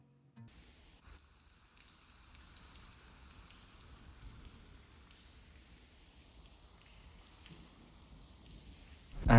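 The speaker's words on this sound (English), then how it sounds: "I also add rain sounds from the atmosphere" Steady rain patters on surfaces in a constant, even hiss, with scattered drops standing out and no speech.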